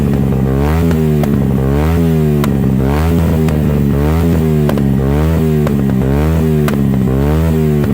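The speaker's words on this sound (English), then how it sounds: "I'll insert some clips where I managed to capture the exhaust actually popping" A Yamaha YZF-R125 motorcycle engine revs loudly in repeated waves, with sharp crackling pops from the modified exhaust scattered throughout.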